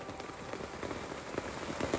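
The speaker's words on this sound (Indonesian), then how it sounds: "hujan di gunung" Rain falling steadily on a mountainside during a storm, a dense patter of drops striking the ground and nearby surfaces, close and continuous with slightly sharper hits near the end.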